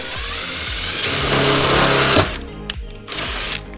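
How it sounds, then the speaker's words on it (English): A power drill whirs loudly at close range drilling holes in the body of a 1998 Subaru Impreza, revving up, then stopping and starting again in short bursts. "you got your drill, and you start basically drilling"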